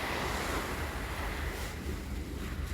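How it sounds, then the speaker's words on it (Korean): Ocean waves break on the shore at Jebudo island in Korea, a continuous low roar and wash mixed with some wind, moderately distant, with no talking. "동네가 조용히 하고 파도소리가 큰가 봐."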